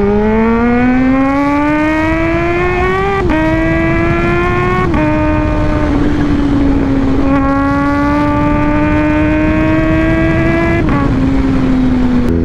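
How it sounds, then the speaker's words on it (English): A supercharged Kawasaki Z H2 motorcycle engine wails loudly and close during a launch, its pitch rising steadily through several gear shifts marked by brief dips, a sustained high-revving howl throughout. "At itong Kawasaki yung pinaka magandang tunog."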